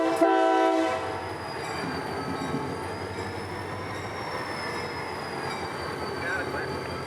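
A CSX freight locomotive backs slowly onto its train nearby in Central Florida, with a low engine drone, squealing wheels and metallic ringing tones sustained throughout.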